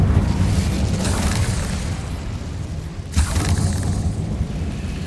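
Incendio fire spell going off in a Harry Potter video game, a loud, dense roaring burst of fire with heavy low rumble, sustained throughout and briefly dipping before swelling again.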